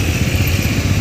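A TVS Apache 200 BS6 motorcycle rides at high speed, its engine a steady, loud, continuous drone mixed with wind rush, close and unbroken throughout.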